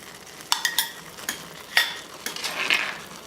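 A whisk clicks and taps against a bowl while remoulade sauce with mayonnaise-style base, prepared horseradish and Creole mustard is mixed. The strokes are light, close and irregular, with a soft scraping blur near the end.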